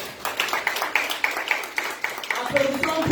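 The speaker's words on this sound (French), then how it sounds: "Applaudissons très fort." A church congregation claps along in quick rhythmic bursts while a preacher's voice carries over the top, the claps moderately loud and close, briefly swelling toward the end.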